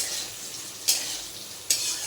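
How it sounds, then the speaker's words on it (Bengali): Potatoes fry in oil with cumin and bay leaf, a soft continuous sizzle broken by two sharp stirring scrapes against the pan, close and without speech. "আলুটা লাল লাল করে ভেজে নিচ্ছি"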